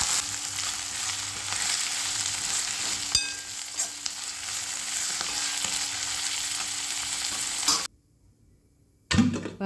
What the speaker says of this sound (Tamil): அது எண்ணெயிலேயே கீரை நல்லா வதங்கட்டும்.